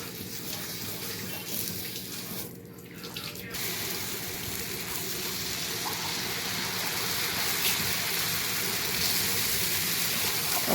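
Dosa batter sizzling on a hot griddle, a steady, close hiss of frying that rises slightly in loudness and carries on with no talk over it.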